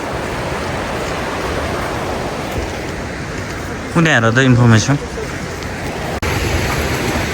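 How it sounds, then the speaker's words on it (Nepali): Glacial river water rushes through the Partnach Gorge in a steady, loud, broadband roar that fills the whole clip, with someone talking briefly over it midway. "थाहा छ हिम नदी चाहिँ यो माया सलल सलल"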